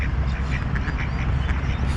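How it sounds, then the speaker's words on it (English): A male and a female duck quack repeatedly on water, their loud, close calls coming in a quick irregular series over a steady splashing background. "just some ducks there, viewers,"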